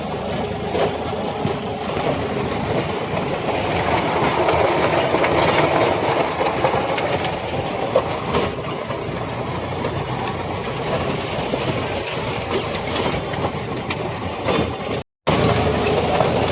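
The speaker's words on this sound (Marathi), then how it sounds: "चालू केलं बघा रोटर मारणं" A John Deere tractor drives a rotavator across a farm field in India, its engine running as a steady, loud continuous drone with mechanical clatter, no voices and one brief dropout near the end.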